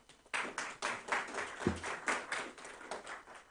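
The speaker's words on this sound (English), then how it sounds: "I think also Matthias Kollatz-Ahn deserves a round of applause." Round of applause at a conference on a new economic agenda for Southeast Europe, scattered hand claps building after a short silence and continuing steadily, fairly distant in a hall.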